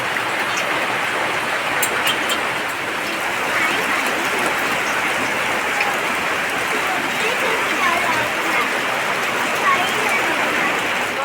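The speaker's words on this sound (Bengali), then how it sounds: "কি জোরে বৃষ্টি পড়তে লেগেছে" Heavy rain pours down steadily outside a kitchen during a rainy day, a dense unbroken hiss filling the whole stretch with no pauses.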